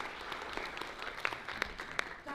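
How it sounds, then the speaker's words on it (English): Faint applause from an IDAHOBIT 2023 event audience, a light scattering of claps with a few sharper individual hits. "A round of applause, please."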